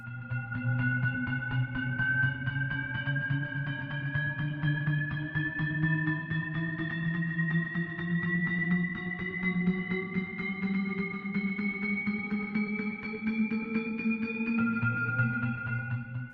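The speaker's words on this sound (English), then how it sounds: "A riser is a tension and release device used in electronic music." A synthesized riser effect built for electronic music: layered tones climb steadily in pitch over about sixteen seconds at constant loudness, with a brief drop near the end before continuing.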